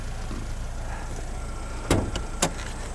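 A 2016 Jeep Renegade Latitude with a manual gearbox and 1.4 liter MultiAir turbo engine drives along, giving a steady low interior drone. Two sharp clicks or knocks stand out near the end. No one talks.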